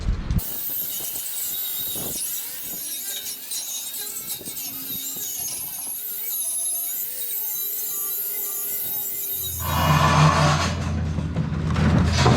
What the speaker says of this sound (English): Hitting the entire rack with the wire wheel.